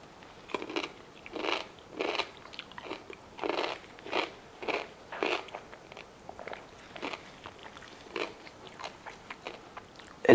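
Crisp bites into a homemade pickled cucumber, brined with chili and coriander seed: a dozen or so crunchy chews come in a steady rhythm, close and clear, with no talk.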